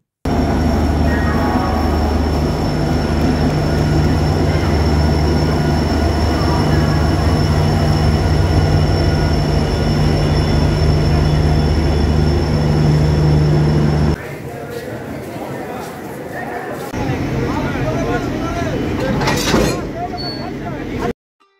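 A passenger train bound for Puri rumbles steadily with a low hum and rattling, then the sound drops abruptly and turns thinner and quieter, with a brief squeal near the end.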